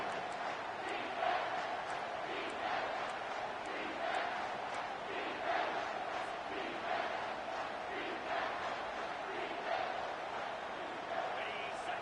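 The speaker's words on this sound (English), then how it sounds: "This crowd knows they have to bring it in big moments" A packed stadium crowd at a Mizzou football game roars in a sustained, dense wall of cheering and chanting during a tense late-game moment, steady and loud throughout.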